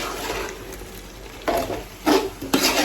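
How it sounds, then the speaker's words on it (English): A spoon stirs vegetable soup with uziza leaf in a pot, giving soft scraping and sloshing strokes, with a few louder stirring passes near the end over a low background hiss. "So I'm gonna stir together"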